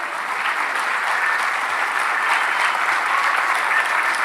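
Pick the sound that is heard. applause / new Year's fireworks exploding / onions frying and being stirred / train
applause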